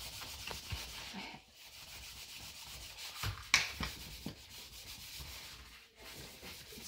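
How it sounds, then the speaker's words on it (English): A dried gourd gets buffed with a coarse-textured rag over a wax finish, a close, fairly quiet, continuous rubbing and scrubbing with uneven back-and-forth strokes. "I want to buff the gourd really well. I use a rag that's got a little bit more texture than most of my rags"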